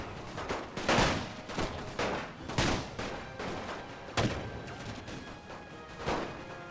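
Infantry gunfire in The Great War game: repeated sharp rifle volleys and cracks at irregular intervals, some close and loud, others scattered, over a steady background din.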